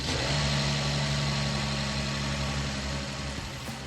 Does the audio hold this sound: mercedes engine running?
yes